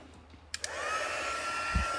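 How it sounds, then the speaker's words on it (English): A crafting heat tool switched on to melt embossing powder: a couple of clicks, then a steady blowing whoosh with a rising whine that holds close and loud, ending with a low thump. "we will just go ahead and use the heat tool and get that embossing powder melted"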